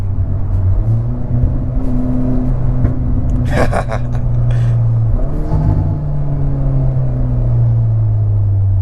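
Hyundai Veloster N with a DCT gearbox and modified exhaust, heard from inside while driving: a loud, deep, continuous engine rumble with rising and falling pitch, and a brief crackling burst midway.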